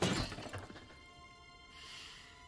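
An object shatters in the God of War video game, one sharp crash at the start that fades into a glassy, ringing tail.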